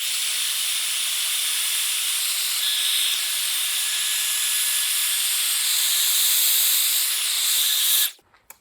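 A steady, loud hiss of a heat embossing gun blowing hot air runs continuously for about eight seconds, then cuts off abruptly into near silence.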